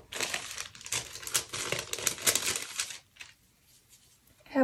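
Small paper envelopes being handled as stamps are slipped inside: close, soft crinkling and rustling for about three seconds, then quieter fumbling.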